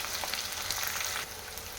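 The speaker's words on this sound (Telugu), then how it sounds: "కొద్దిగా ఫ్రై చేసుకోవాలి" Onion, cashews and almonds fry in hot oil for a dhaba-style paneer curry, giving a continuous close hiss and crackle that holds steady and then drops slightly in level.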